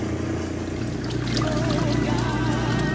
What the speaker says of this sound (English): So I went ahead and I added more water to the washer